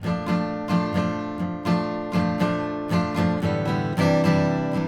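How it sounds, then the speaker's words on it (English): An acoustic guitar strums chords at an unhurried pace, slowed down, each strum ringing out clearly with open strings before the next. "there's going to be some open string strums in there"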